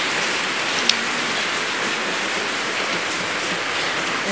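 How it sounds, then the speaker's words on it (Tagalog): Rain falls steadily outside, a constant dense hiss of drops hitting surfaces that stays even and fairly loud throughout, with one brief sharp tick near the start and no voices. "Umulan pa rin sa labas."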